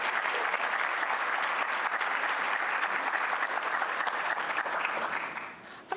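Steady, sustained applause from a conference audience at a history and culture gathering fills the room at even loudness, tapering off near the end.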